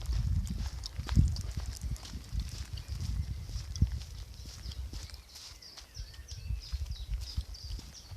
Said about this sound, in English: private field here with some horses in.